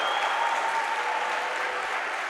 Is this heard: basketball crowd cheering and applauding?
yes